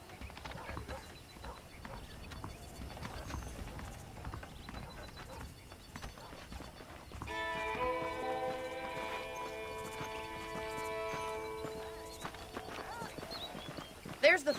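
Horse hooves clip-clop steadily as a rider travels in the Western video game Red Dead Redemption, with ambient game sound, voices talking throughout and a music swell in the second half.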